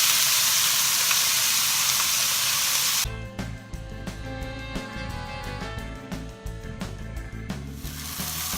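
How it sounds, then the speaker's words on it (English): Red and green peppers sizzle in a frying pan, first a loud broad hiss, then quieter crackling and spitting with scattered pops and occasional clatter as they cook, no voices. "I'm going to fry up the red and green peppers"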